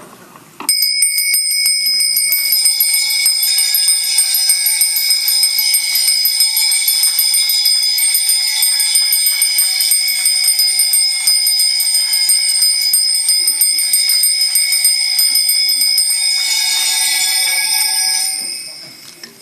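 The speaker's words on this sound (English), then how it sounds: "Bells of invincibility." Bells ring loudly and continuously in a bright, rapid shimmer that lasts for most of the stretch before cutting off, with no voices over them.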